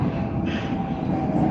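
An older Moscow metro train rumbles close by in a snowy-season station, a loud continuous roar with a steady tonal hum and a brief brighter hiss partway through.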